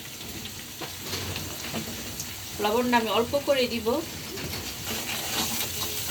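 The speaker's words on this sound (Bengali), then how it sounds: "এখানে পেঁয়াজটা ভেজে নিচ্ছি।" Onions frying in a pan with ginger-garlic paste and ground spices give a soft, steady sizzle throughout, with someone talking briefly over it in the middle.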